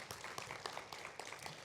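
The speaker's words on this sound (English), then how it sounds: "I think we should give these folks a round of applause." An audience at a chiropractic pain-relief talk gives military veterans a round of applause, a faint, brief burst of scattered clapping.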